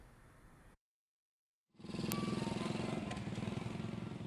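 Motorcycle fitted with a loud modified knalpot brong exhaust at a police raid in Pemalang, Central Java, revving hard with a dense, raspy roar that starts abruptly after a short silence and holds steady and close.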